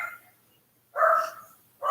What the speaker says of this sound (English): my dog keeps barking